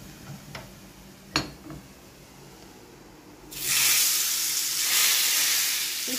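Hot oil for red chili oil bursts into a loud, bright sizzle partway through, after a few quiet ticks and clinks, then keeps hissing steadily and close.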